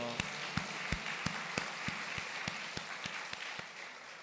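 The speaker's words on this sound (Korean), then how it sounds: "박수로 영광 돌리겠습니다." Church congregation clapping together in a steady, even rhythm, the claps sounding faint and distant and continuing for several seconds with no voices on top.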